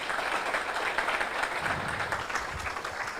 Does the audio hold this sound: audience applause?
yes